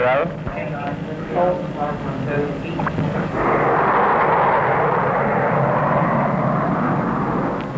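A Fairey Delta 2 jet aircraft with its reheat lit lets out a loud, broad roar that builds and then holds steady, with radio chatter heard over the engine noise.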